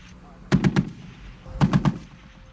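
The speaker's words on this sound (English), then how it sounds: "Its weapons system consists of either a 40mm automatic grenade launcher or a 50 caliber heavy machine gun." A .50 caliber heavy machine gun on a Stryker armored vehicle fires two short bursts of three rapid shots each, about a second apart. The shots are loud and sharp, with no talking.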